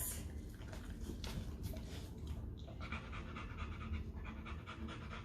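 A dog pants rapidly and heavily right up close, a quick steady rhythm of breaths lasting several seconds with no talking.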